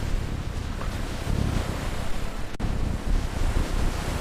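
Rushing water and surging waves in an animated children's story about a duck, a constant turbulent roar with windy gusts, heard alone without speech.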